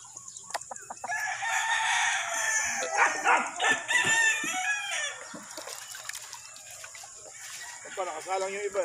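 A gamefowl rooster of the Boston line at a game farm crows loudly and close, one long drawn-out call with clucking and other fowl around it and brief talk nearby.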